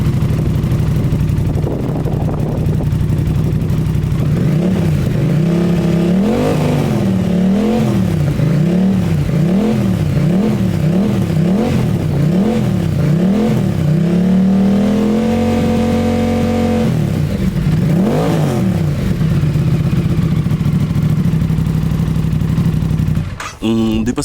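An Aprilia RS660 fitted with an IXRACE exhaust revs repeatedly in a stationary decibel test toward 5250 rpm, loud and close, with rhythmic rising and falling blips followed by a steady held rev, then settling back to idle.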